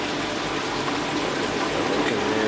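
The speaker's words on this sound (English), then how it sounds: "Watching all that water go down there." Water drains away while an Evolution Aqua Nexus 310 aquarium filter is being cleaned, giving a steady close gushing, rushing flow throughout.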